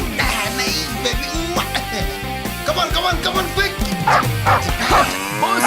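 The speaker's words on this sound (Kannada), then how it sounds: "ನಾಯಿ ಬೊಗಳ್ತಾ ಇದೆ." A dog barks and yips repeatedly in a rural village, close and loud, with short whimpering calls mixed in, while people talk over it.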